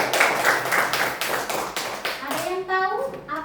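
A class of children claps for a classmate in a classroom, a burst of rapid hand claps that fades away as young voices talk over the end.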